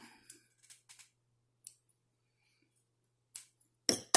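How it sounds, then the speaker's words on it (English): Scissors snip loose threads on a finished cloth face mask with t-shirt ties, giving a handful of small, sharp, close-up clicks spaced irregularly across a quiet room, ending in a slightly louder cluster of cuts. "to take it out, snip the threads"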